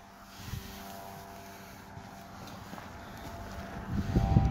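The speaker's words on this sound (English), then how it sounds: "I'm going to jump back on the bike now, and we're going to go do some motorway miles and town riding" BMW F800GT motorcycle riding, a low steady engine drone mixed with wind rush, swelling louder toward the end as it speeds up.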